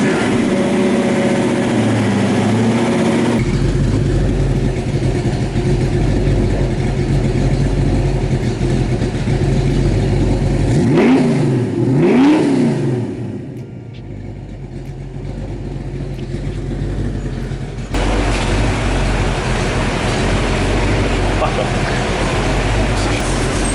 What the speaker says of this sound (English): let's start it up, see what happens. See if I can get it to fucking idle